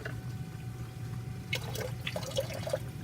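A faint trickle of liquid pouring and dripping close by over a steady low hum, with small splashes toward the end.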